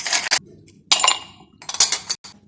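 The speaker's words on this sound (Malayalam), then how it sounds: "ഐസ് ക്യൂബ്സ് ഇട്ട് വെക്കാം." Ice cubes drop into a drinking glass while lemonade is prepared: three or four sharp, bright clinks and rattles in quick bursts with short silences between them.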